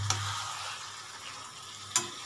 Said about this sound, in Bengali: বন্ধুরা এটা অনেকক্ষণ ধরেই আমি কষাচ্ছি